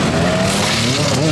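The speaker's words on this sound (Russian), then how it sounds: "Спортсмены снова сели на свои мотоциклы, чтобы начать подготовку к новому сезону." Motorcycles of a motoball team run on a stadium field, a loud continuous engine roar with rising and falling revving, close and dense throughout.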